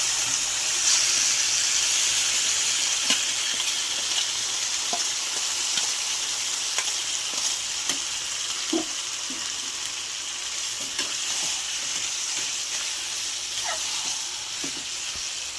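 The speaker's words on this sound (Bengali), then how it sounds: "এবার আমি ঝরানো জল ঝরানো কচু শাকগুলো দিয়ে দিই।" Drained taro greens go into a pan of sizzling tempered spices for a hilsa-head taro-greens dish, giving a steady, close frying hiss throughout with scattered light clicks and scrapes of stirring.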